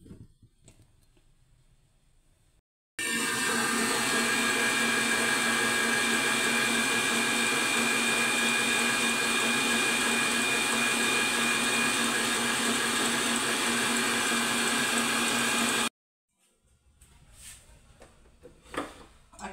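Electric hand mixer whipping egg whites in a home kitchen, a steady loud whirring drone that starts abruptly, runs unbroken for about thirteen seconds and cuts off, with quieter handling noises before and after.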